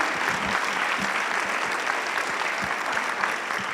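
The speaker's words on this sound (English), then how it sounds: "Please applaud to them." Steady, full applause from a conference audience at a closing ceremony in Tbilisi, continuous hand-clapping throughout with no pause.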